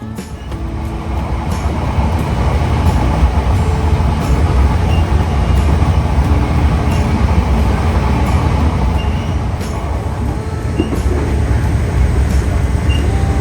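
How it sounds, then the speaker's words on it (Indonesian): Kedung Sempur local passenger train running from Purwodadi to Semarang, a steady loud rumble of wheels and carriage noise filling the whole stretch without letup, no voices. "jadi kereta api Kedung Sempur ini adalah satu-satunya layanan kereta lokal"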